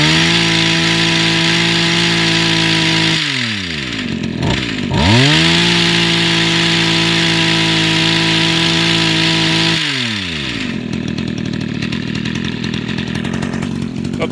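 Echo HC-1500 hedge trimmer, a roughly 20-year-old two-stroke machine, running loud and close with a steady high buzz that dips and revs back up twice.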